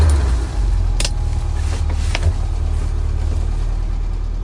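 A car engine runs in a low steady rumble at night, close and loud, with a couple of faint clicks over it.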